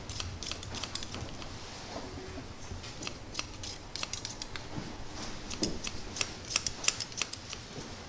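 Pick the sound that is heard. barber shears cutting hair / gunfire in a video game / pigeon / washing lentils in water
barber shears cutting hair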